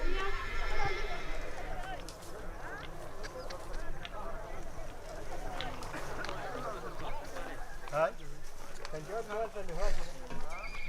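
Horses neigh and whinny amid hoof clip-clop at a riders' desert camp in the Sahara, with people talking over a busy, continuous background throughout.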